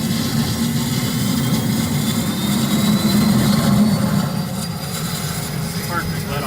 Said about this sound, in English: Should I go ignition and engine start?